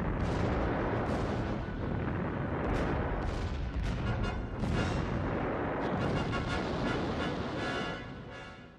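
Naval gunfire from a German warship's 280mm guns in a sea battle at the mouth of the Río de la Plata. Heavy booms roll continuously at high volume, overlapping into a dense rumble with sharp blasts on top.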